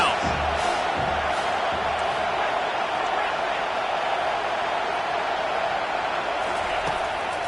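Football stadium crowd at a USC vs South Carolina college game roars steadily on third down, a dense, sustained wash of cheering with no lulls.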